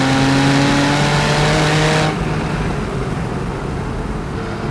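Engine of a Porsche 911 Carrera S convertible (991.1) on the road, a loud, steady tonal drone that cuts off after about two seconds and gives way to broad road and wind rush, with no voices.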